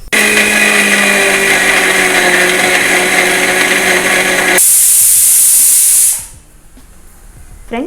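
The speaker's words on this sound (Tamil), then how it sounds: "இஞ்சி பூண்டு பேஸ்ட்டை அரைச்சி எடுத்துக்கலாங்க" A kitchen mixer grinder runs at full speed while grinding ginger garlic paste, a loud harsh whirring roar for about six seconds that shifts to a hissier tone, then cuts off into quiet clatter.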